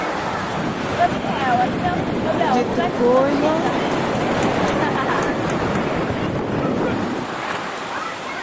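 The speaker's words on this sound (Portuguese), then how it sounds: "O mar vai chegar aqui rapidinho." Sea waves break and roll steadily onto a shore under gusting wind, a loud continuous surf roar, while people talk briefly over it.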